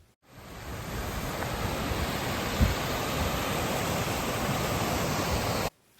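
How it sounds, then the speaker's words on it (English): Waterfall at Oeschinensee lake in the Swiss Alps, a steady broadband rush of falling water heard at moderate distance, even and unbroken, with no voices. "you can just hike up to this waterfall that I'm zooming in on"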